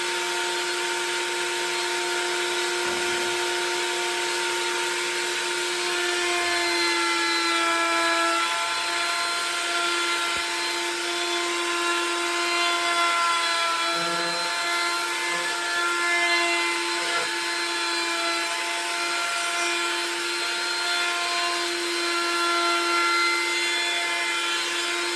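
A power tool rounds over the rough edges of a wooden piece, a loud steady high whine running continuously with no pauses.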